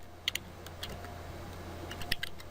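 Quick, light keystrokes on a computer keyboard entering a command-line instruction for a Cisco ASA 5510 firewall, a few soft clustered taps close by over a faint steady hum, no talking.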